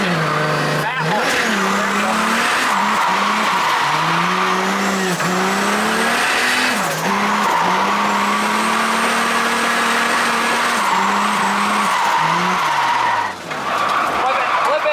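A 500HP 2JZ-swapped BMW E36 drifts with the engine revving hard through wavering pitch changes while the tires squeal and skid continuously, loud and close, with people talking over it.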